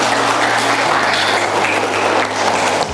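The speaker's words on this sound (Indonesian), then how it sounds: "Ya, tepuk tangan semuanya." Audience applause at a KSBI event in Jawa Barat, a dense, loud wash of clapping that holds steady for a few seconds before cutting off.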